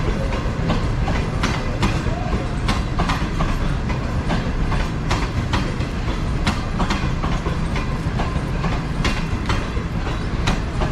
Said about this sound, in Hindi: ये आपके सामने से गुजर रही है 5 अप ग्रीन लाइन।